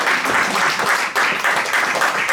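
A church congregation claps together in dense, steady applause, loud and close, that continues evenly throughout with no speech over it.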